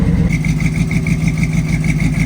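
An old Chevy square body truck, a barn find, idles with a steady, loud, rumbling engine note and a slight puffing exhaust leak ticking through it.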